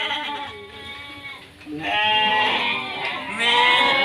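Goats in a pen bleating close by, several loud wavering calls overlapping, with quieter stretches between them.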